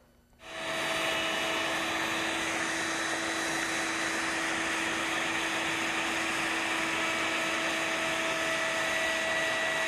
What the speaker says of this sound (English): we're going to use a bevel bit at the router table with a bearing on top.